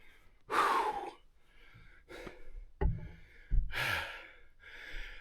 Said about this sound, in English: rather than make you listen to me gasp for air longer